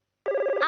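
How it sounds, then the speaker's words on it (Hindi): A telephone rings indoors in a family home in a Hindi-dubbed Shinchan cartoon episode: a single short electronic ring bursts in after a brief silence, close and clear with no talk over it. "किसका फोन होगा?"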